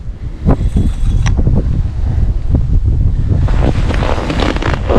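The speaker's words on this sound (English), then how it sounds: "that wind, you can see visibly it got much worse" Strong wind gusts buffet the microphone across a frozen lake in extreme cold, a loud continuous roar with rushing surges and low rumbles and no voices.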